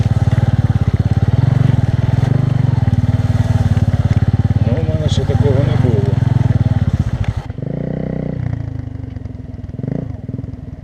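A Bajaj Boxer motorcycle engine, started after sitting unused, rumbles loudly with brief throttle revs, then drops to a quieter idle while a person talks over it.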